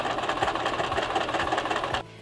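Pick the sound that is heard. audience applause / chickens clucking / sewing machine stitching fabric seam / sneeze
sewing machine stitching fabric seam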